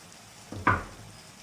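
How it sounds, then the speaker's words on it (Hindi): Onions tipped into chicken frying in a kadhai give a short, sharp sizzle burst that swells quickly and then fades, close and brief over a quiet background. "अब इस स्टेज पर हम इसमें प्याज डाल देंगे"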